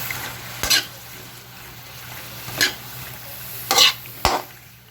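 Kangkong (water spinach) stems sauté in a hot pan with a constant low sizzle, broken by four sharp utensil scrapes and clanks at uneven intervals.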